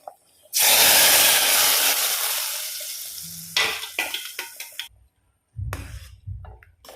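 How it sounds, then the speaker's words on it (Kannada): Mustard seeds, urad dal and curry leaves hit hot oil with a loud, bright sizzle that slowly fades, followed by scattered pops and crackles and a brief second burst of frying. "ಸಾಸಿವೆ ಉದ್ದಿನ ಬೇಳೆ ಹಾಗೆಯೇ ಕರಿಬೇವು ಹಾಕ್ಕೊಂಡೊಂದು ಒಗ್ಗರಣೆ"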